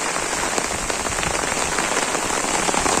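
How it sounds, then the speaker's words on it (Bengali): Heavy rain pouring down steadily, a dense continuous hiss of drops on surfaces, close and loud with no pauses. "এত সময় অনেক বৃষ্টি হইলো"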